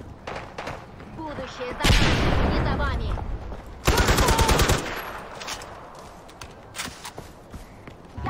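Bursts of machine gun fire in the video game Far Cry 4, two long loud volleys mixed with scattered shots and footsteps, with a voice talking over the action.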